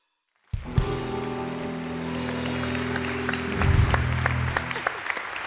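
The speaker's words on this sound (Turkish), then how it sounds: "Daha büyük alkış Ulu'ya, Ulu'ya." Studio audience applause on a Turkish TV talk show, starting abruptly after silence and continuing as a steady crowd clap, with a sustained musical tone underneath and a brief louder swell midway.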